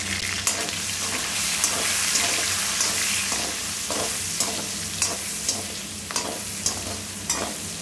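Small onions and curry leaves sauté in a pan with turmeric for paruppu urundai kulambu. A constant close sizzle is broken by regular ladle taps and scrapes about every half second, with no speech.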